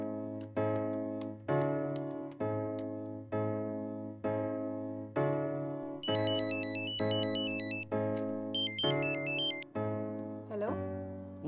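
A mobile phone rings out while a call is placed to a mother, a repeating melodic ringtone pattern cycling steadily and loudly for several rounds, with a brighter electronic trill layered in partway through before it cuts off.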